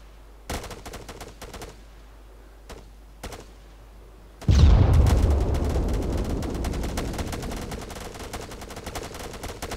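Gunfire in a military video game, with a few isolated sharp shots followed by a sudden loud, sustained burst of rapid firing that rings on and gradually thins out.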